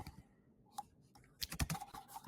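Someone types on a computer keyboard in a quiet room, with a few soft scattered key taps giving way to a brief quicker cluster of sharper clicks.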